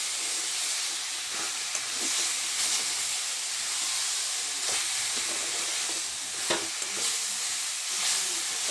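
Grated carrots for halwa sizzle steadily in ghee while being stirred, with a broad constant frying hiss broken by scattered scraping clicks of a spoon against the pan, close and moderately loud, no voices.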